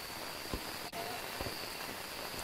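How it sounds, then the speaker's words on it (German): Steady rain hisses through a multiplayer ghost-hunting game set at Maple Lodge Campsite, an even wash of falling water with a few soft thumps, no voices. "wir haben nämlich den Regen"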